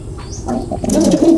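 Racing pigeons coo in a short, close burst, a soft throaty call with a faint wing flutter, loud and clear with no talking.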